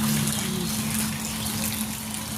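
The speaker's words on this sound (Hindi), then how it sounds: "देखिए पूरा मंदिर का पानी आ चुका है," Floodwater from heavy rain pouring into a temple in Jaunpur, a continuous rushing, trickling flow with a steady low hum beneath it, no voices.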